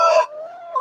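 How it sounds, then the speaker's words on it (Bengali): A single short, nasal cluck from a Tiger-breed chicken on a farm, close and fairly loud, with no other sound around it. "এগুলো হলো টাইগার মুরগি"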